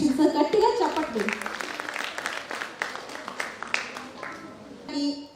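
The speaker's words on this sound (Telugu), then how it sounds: "guys give a big round of applause" An audience at a National Youth Day event claps and applauds, loud at first and then thinning into scattered claps, with voices and children's chatter mixed in.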